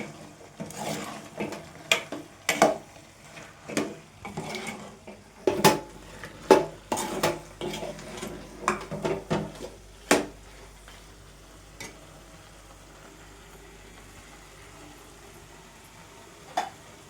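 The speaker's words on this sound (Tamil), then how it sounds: "மசாலாவும் சேர்த்து நல்லா சிக்கன் கூட கலந்து விட்டுறேன்" A spoon stirring chicken with ground masala in a cooking pan: repeated scraping knocks and clinks against the pan over a faint sizzle, busy at first, then sparse and quiet toward the end.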